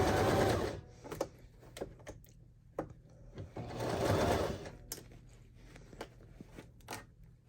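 Baby Lock Zest sewing machine stitching slowly around a bucket hat seam, with close bursts of rapid mechanical whirring separated by pauses and small clicks and handling sounds.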